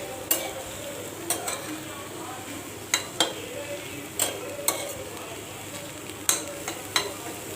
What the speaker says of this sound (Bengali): এখানে আমি হালকাই ভাজি করব ওরকম ভাজি করব না একদম এগুলো দেশি চিংড়ি